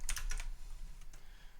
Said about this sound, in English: hit Control and then Enter, which will pop up a terminal